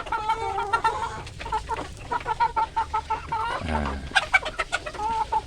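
Village chickens (ayam kampung) cluck repeatedly in a farm coop, close and busy, with someone speaking briefly among the birds.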